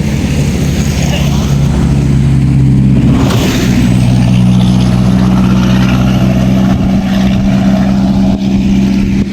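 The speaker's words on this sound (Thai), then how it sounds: "เสียงรถ เสียงดังหน่อยนะคะทุกคน" Steady loud road traffic rumbles past, heavy engines droning and a brief swell as a vehicle goes by, with a voice faintly underneath.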